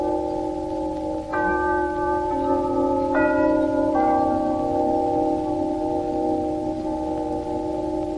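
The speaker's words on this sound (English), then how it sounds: "the chimes of Telechron, the modern electric timekeeper that operates from your lighting circuit, have been heralding the approach of the hour" A Telechron electric clock, a modern timekeeper running from the lighting circuit, sounds its chime series ahead of the hour on a radio broadcast, with several sustained bell-like tones entering one after another and ringing together steadily.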